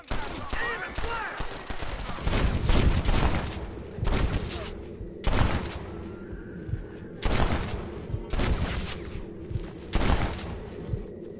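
Gunshots in Red Dead, a cluster of rapid loud cracks early on followed by single spaced shots every second or so, each sharp and close with a short rumbling tail, and some voices around them.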